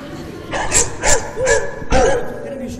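A dog barks four times in a short, spaced series, fairly close and moderately loud over a background of room noise during a Pontic Greek theatre performance.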